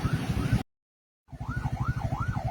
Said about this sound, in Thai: เปิดไฟหวออยู่ด้านหลังนะครับผม นะครับเป็นรถเป็นรถพยาบาลนะครับ